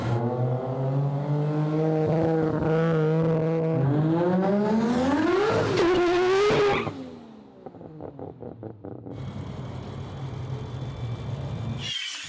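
A three-rotor car accelerates hard with its tires spinning, the engine note climbing to a high scream through about seven seconds before cutting off abruptly, leaving a fluttering idle and background rumble.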